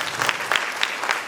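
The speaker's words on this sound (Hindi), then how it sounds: "हम आप तमाम लोगों से आग्रह करेंगे एक बार हमारे लेखिका महोदय के लिए जोरदार ताली" Brief, energetic clapping from an audience at a book launch ceremony honoring the author, with a few sharper individual claps standing out from the crowd.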